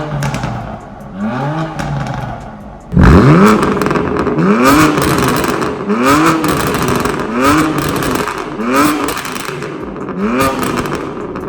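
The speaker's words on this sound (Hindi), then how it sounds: "पहले आप स्टॉक एग्जॉस्ट की आवाज सुनो" BMW M2 with its stock exhaust, engine blipped repeatedly after a sharp start, each rev rising and falling in a loud nearby bark with a short gap between revs.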